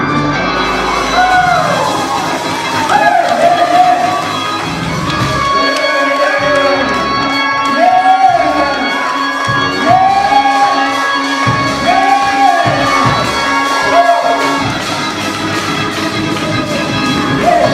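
A church congregation shouts, whoops and cheers in praise during a worship service, with loud, sustained crowd voices and repeated rising calls alongside an amplified voice leading them.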